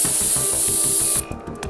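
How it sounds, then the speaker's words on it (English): Steady close hiss of a spray nozzle washing a part clean in the ElectriX electro-mechanic simulator game, over a rhythmic low background loop, cutting off abruptly near the end. "I'm probably good just to spray it away"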